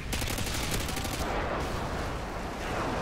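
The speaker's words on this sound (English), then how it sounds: "Airstrike!" An airstrike in a first-person shooter game, heard as a dense burst of rapid gunfire and booming explosions that rolls on without a break.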